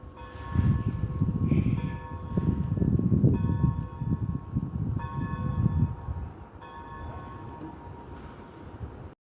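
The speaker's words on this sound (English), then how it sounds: "Oh, the church bells." Church bells ring from a nearby church, their steady, sustained tones fairly faint over a low outdoor rumble.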